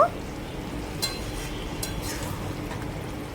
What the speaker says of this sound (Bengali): আমি একটু খুন্তি দিয়ে নেড়ে ছেড়ে দেব